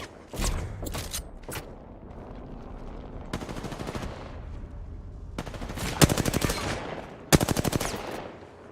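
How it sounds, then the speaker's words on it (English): Video game gunfire crackles in several sharp automatic bursts, some loud and close, others softer, separated by brief lulls of low background noise. "Taking fire!"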